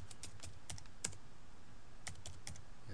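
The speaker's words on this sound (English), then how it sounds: "Password Tim H, and I'll type in my password," A password typed on a computer keyboard: a few sparse, crisp key clicks close by, with a short gap in the middle and no speech.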